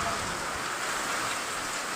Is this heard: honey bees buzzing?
no